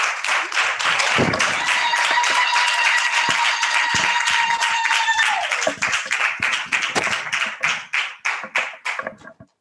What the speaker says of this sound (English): So please put a huge round of applause for the Paradigm Initiative.